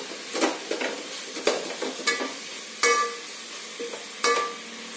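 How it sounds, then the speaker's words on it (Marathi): Finely cut vegetables sauté in a frying pan, sizzling under a series of sharp, distinct scrapes and knocks as a utensil stirs them, about half a dozen strokes spaced unevenly, close by with no voice. "हिला थोडस मी परतून घेते"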